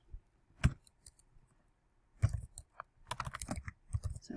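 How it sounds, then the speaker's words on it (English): Typing on a computer keyboard: an isolated keystroke, a pause, then a quick irregular burst of clicky key presses, close and fairly quiet, with no talking. "And let's type that into Excel."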